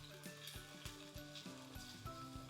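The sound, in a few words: onion frying in a pan for chicken tinga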